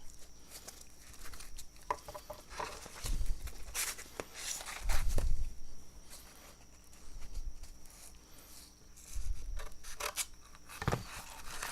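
Cutting material for a sanding block in a guitar-building shop, scattered close rasping and scraping strokes with soft thumps and handling noise, irregular and unhurried.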